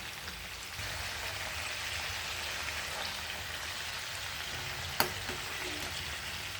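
Kerala-style chicken curry fries in oil with a steady, close hiss of sizzling that holds evenly throughout, broken once near the end by a single sharp utensil clink.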